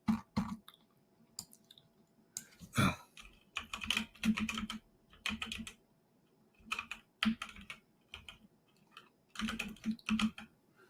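Bursts of typing on a computer keyboard, clustered rapid key clicks separated by pauses, close and crisp in a quiet room with occasional soft voice sounds.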